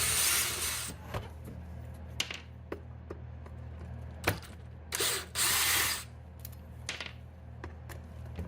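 A power driver backs Torx 25 screws out of a Husqvarna 125BVX leaf blower housing in several short whirring bursts, separated by quiet pauses with small clicks and handling knocks.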